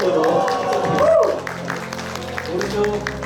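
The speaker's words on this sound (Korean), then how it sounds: "YDM 대표 강사 권현주 강사님 박수 부탁드리겠습니다" An audience at a lecture event breaks into steady, moderately loud applause that fills a hall to welcome a speaker, with voices heard over the clapping.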